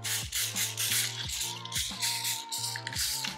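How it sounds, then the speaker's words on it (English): Cooking oil is sprayed from a can onto a skinless salmon fillet before air frying, in a quick series of short hissing bursts over a soft background hum. "so I'll spray some oil on top"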